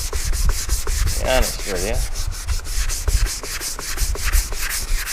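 A 2017 Sonic's quarter panel is sanded with 500-grit paper in a steady, rhythmic back-and-forth rasp, close and continuous, while someone speaks briefly over it.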